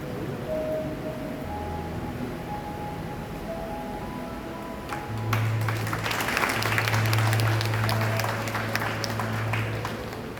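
Crowd at the installation of new trustees at St. Thomas Cathedral, Irinjalakuda, breaks into applause; a murmuring hall turns to steady mid-distance clapping that swells at about five seconds and carries on to the end.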